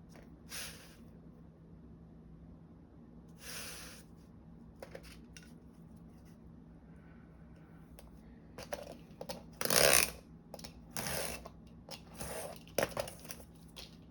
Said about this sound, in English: So we're gonna cut off another, I don't know, 1/2 inch to 3/4 of an inch